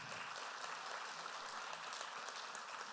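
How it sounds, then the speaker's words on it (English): An audience claps for the speakers at a panel event, a faint, even, continuous patter of applause with no voices over it. "Can we have another round of applause for our amazing speakers, please?"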